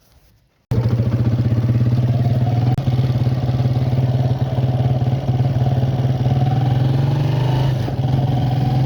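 A scooter engine starts up abruptly and runs loudly and steadily at close range during a ride, its low rumbling drone continuing with only slight rises and dips.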